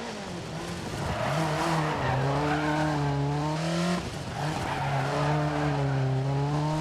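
Opel Manta 400, a rear-wheel-drive Group B rally car in Dirt Rally 2.0, roars loudly at high speed with its engine pitch rising and falling through gear changes, tyres hissing over the surface throughout.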